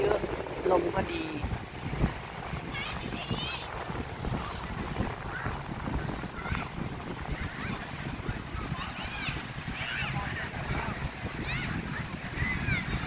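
Strong wind blows along the beach at Bang Saen, Chonburi, on an evening with athletes and many people nearby. It makes constant gusty buffeting and rumbling throughout, with scattered voices and faint crowd chatter underneath.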